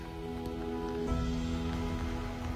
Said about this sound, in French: sous la pluie les amis.